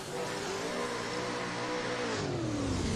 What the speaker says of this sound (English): I can hear a car coming!